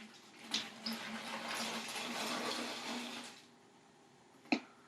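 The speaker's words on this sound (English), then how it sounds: "I'm going to take my white vinegar and I'm going to pour it inside my water bottle" White vinegar is poured into a water bottle, a steady close liquid splash and gurgle lasting a few seconds before it stops, followed by a couple of sharp knocks.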